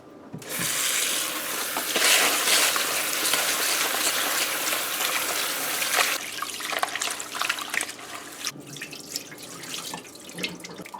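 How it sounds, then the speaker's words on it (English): Rice is washed under running tap water in a kitchen sink while cooking Guyanese seasoned rice, a steady splashing flow with swishing and a few drips toward the end, no voices over it. "So we're gonna wash our rice."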